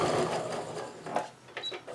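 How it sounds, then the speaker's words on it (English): A sewing machine stitches pieced quilt block fabric, a close, busy mechanical whir with rapid needle ticking and small bumps, running alone without talk. "let it go through the sewing machine"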